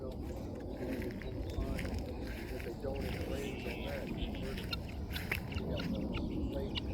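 Chickens cluck softly around a deer feeder outdoors, faint and scattered under steady background noise and murmured talk.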